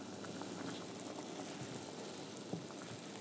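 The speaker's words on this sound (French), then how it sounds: "Mon bouillon est à ébullition" A steady bubbling rumble of broth at a rolling boil in a pot, continuous and close, with no voices.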